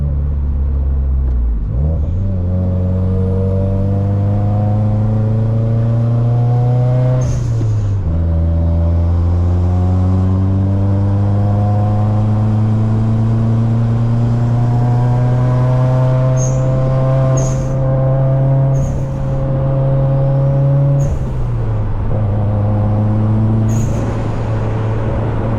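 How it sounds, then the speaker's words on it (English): A Subaru WRX engine pulls hard through several gear changes, its loud rising drone dropping at each shift with a short, sharp hiss from the blow-off valve, plus a few faint clicks later on. "This blow valve is fucking so fucking loud."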